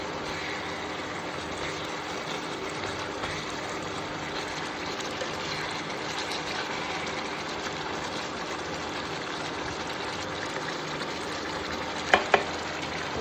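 Chicken curry stirred in a pan after ten minutes of cooking, giving a steady, moderately loud frying hiss with soft stirring scrapes throughout and two sharp clinks near the end; no talk.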